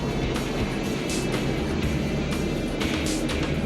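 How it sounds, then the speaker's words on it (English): Ultra Motorsports Mopar Dodge NASCAR Craftsman Truck Series race truck at Daytona pulling away in first gear, a loud continuous engine roar with steady rumble and no talk. "He shoves the truck up in first gear, and away he goes"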